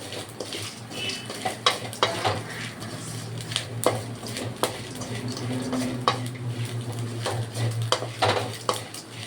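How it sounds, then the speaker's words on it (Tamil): Chettinad chicken gravy sautés in a pan with a low, steady sizzle as a spoon stirs and scrapes against the metal in repeated sharp clinks and knocks, close and clear. "இந்த மாதிரி தான் கிரேவிக்கு முதல்ல வதக்கணும்"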